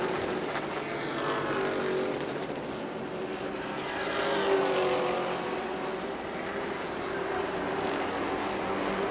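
Race cars roar around an oval racetrack during a racing event at New Smyrna, a continuous mid-distance engine drone that swells briefly in the middle before settling back to a steady hum.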